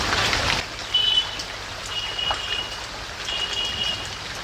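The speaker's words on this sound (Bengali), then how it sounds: "রান্না করতে করতে জোরদার বৃষ্টি চলে এসছে" Heavy rain pours down while cooking goes on in a home kitchen, a loud, steady, close hiss of drops on surfaces that continues without a break, with a few faint thin tones above it and no talking.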